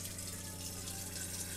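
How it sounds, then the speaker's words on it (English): Water pours steadily into a Berkey travel water filter, a continuous close rushing splash that stays even throughout with no talk. "I'm going to pour a little bit of water in here to see if it is not leaking"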